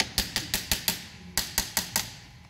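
Hammer knocking parts off a Nissan Patrol axle being repaired on a modified UAZ, a series of sharp metallic strikes in two quick bursts, loud and close with no talk.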